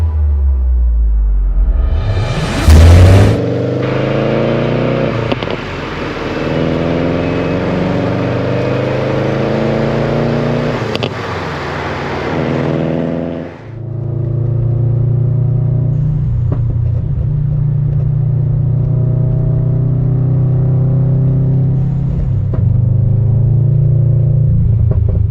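A 400 hp Subaru WRX STI, driven on the road, gives a sharp rising rev and then a steady loud engine and exhaust drone. The pitch climbs through the gears before settling into a lower cruising rumble.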